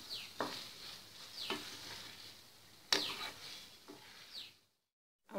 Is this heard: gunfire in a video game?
no